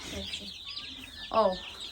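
Young white broiler chicks in a warm brooding room give thin, high cheeping calls scattered throughout, with one louder burst of chirps near the end, close to the microphone.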